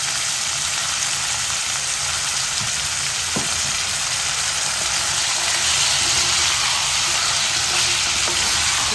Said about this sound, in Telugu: కొంచెం గ్యాస్ మీడియం ఫ్లేమ్లో పెట్టుకొని ఇలా ఫ్రై చేసుకోవాలి మనం.